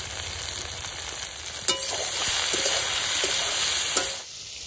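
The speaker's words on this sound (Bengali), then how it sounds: "বেগুনগুলো একটু ভাজা ভাজা হয়ে গেছে" Eggplant pieces fry in a pan with salt and turmeric, a steady loud sizzle with occasional clinks of a spatula stirring, tapering off near the end.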